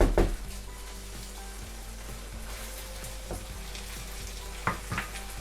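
Sliced spring onions are mixed into a simmering bolognese sauce, a soft low sizzle with occasional utensil knocks against the pan, near and with no speech.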